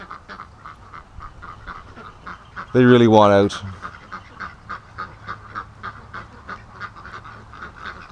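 Rouen ducks in a pen let out a single loud burst of honking quacks lasting about a second, with faint rhythmic bird sounds and someone speaking around it.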